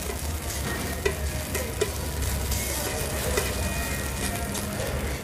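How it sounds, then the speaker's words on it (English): Bologna frying lightly in ghee in a pan gives a steady, dense sizzle with a few soft clicks and pops. There is no talking. "I just want to give the bologna a slight fry. And I will be doing it in ghee"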